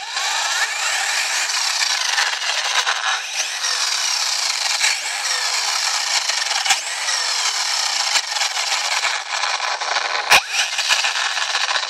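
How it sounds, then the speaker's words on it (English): Tekno SCT410 RC short course truck running close by with noisy differentials, a loud continuous gritty whirring and grinding with a few sharp clicks. "It still sounds a little noisy with the diffs."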